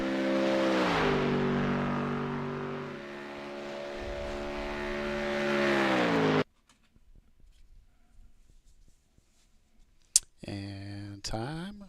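A Mustang GT3 race car engine holds a strong, harmonic drone for about six seconds with gliding pitch changes, then cuts off into near silence before a few short, sharp bursts near the end.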